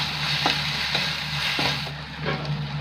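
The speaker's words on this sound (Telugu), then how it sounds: "ఇప్పుడు పచ్చాగా దంచిన వెల్లుల్లి వేసుకొని వేయించుకుందాం." Crushed garlic fries in a pan with onion paste and turmeric, a constant crackling sizzle broken by several soft stirring knocks, close and without speech.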